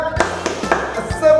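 A group of children claps a rhythmic cheer (tepuk semangat), a few sharp claps spaced about a quarter second apart, close and loud, with a voice beginning at the end.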